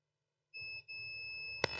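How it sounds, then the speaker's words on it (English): A high electronic beep from a Lenovo ThinkPad X1 Yoga laptop motherboard under repair sounds twice, a short tone then a longer sustained one, with a faint click near the end, in a quiet room. "You can hear the beep."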